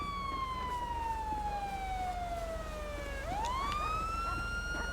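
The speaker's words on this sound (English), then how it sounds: "Actually, my siren is still running." Police car siren in the LSPDFR police game, a loud wailing tone that sweeps slowly downward then rises again, running continuously over a low engine hum.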